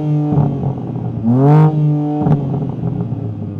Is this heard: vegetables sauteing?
no